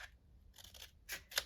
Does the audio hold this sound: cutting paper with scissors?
yes